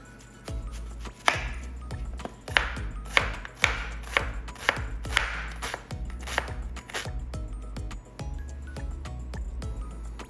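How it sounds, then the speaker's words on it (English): An onion chopped with a knife on a cutting board: steady rhythmic knocks of the blade, close and clear, with no talking. "Now we have our last thing to chop, that is onion."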